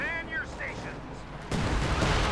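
Artillery barrage in a Company of Heroes 2 match rumbles as a dense, continuous battlefield roar that swells louder partway through, with tonal game sounds early on and a commentator's voice faintly mixed in.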